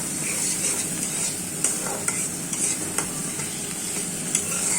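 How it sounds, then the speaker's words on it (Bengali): Spice paste for a folui fish curry with tomato and potato sizzles as it is sautéed in a pan, with a continuous frying hiss and a few soft taps of the stirring spoon, close and steady with no talk. "মশলাটা ভালোভাবে কষিয়ে নেব।"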